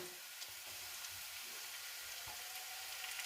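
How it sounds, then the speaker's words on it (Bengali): Onion, garlic and chopped ginger fry in oiled pan, a steady soft sizzle with faint stirring clicks throughout, close and continuous with no voices. "খানিকটা ভাজা হয়ে গেছে পেঁয়াজ রসুনটা এবার আমি আদা কুচোটা দিয়ে দেবো"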